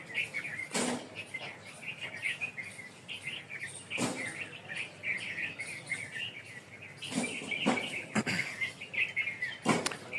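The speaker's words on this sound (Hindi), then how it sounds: "परिंदों की आवाज़ें सुनाई दे रही होंगी" Birds chirp and sing steadily outdoors, with repeated high calls over a soft background and a few louder knocks or bumps.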